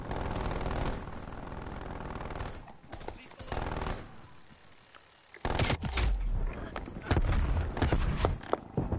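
A hostile sentry turret firing in the shooter Black Ops Cold War, rapid machine-gun bursts loud and close, broken by pauses and mixed with other battle noise and talk.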